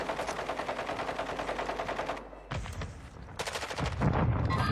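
Rapid automatic gunfire from a first-person shooter video game, loud and continuous bursts at first, then a pause followed by renewed shots and heavier impacts.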